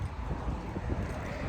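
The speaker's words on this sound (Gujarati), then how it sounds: "પવન બહાર બહુ છે" Strong wind blows outdoors, buffeting the microphone with a low, rumbling roar that gusts unevenly for a moment, with no talking.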